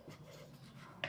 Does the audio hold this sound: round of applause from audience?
no